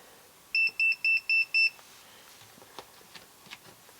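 Five short, evenly spaced electronic continuity beeps from an Innova 3320 auto-ranging multimeter in quick succession, clear and close, followed by faint clicks and handling noises.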